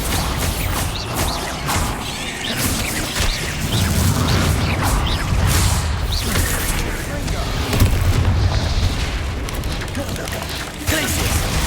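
Bombarda spell explosions in Hogwarts Legacy, loud booming blasts and crashing impacts rolling over a steady bed of combat noise, with short shouted voices amid the bursts.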